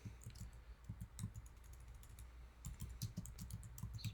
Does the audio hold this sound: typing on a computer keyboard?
yes